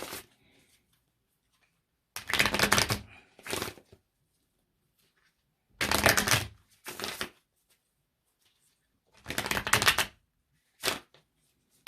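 A deck of tarot cards is shuffled in three separate bursts, each a loud, close riffle lasting about a second followed by a shorter flutter, with near silence between the bursts.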